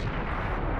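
A heavy tank's cannon booms in a World of Tanks battle, a dense, rumbling blast that fills the short moment with low-end roar and continuous battlefield noise.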